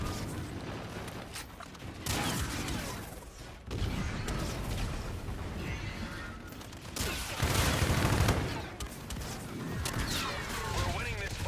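Rapid gunfire from a Call of Duty: Infinite Warfare match, dense bursts of shots and mechanical clatter running almost nonstop, with a louder cluster near the end and someone talking over the action.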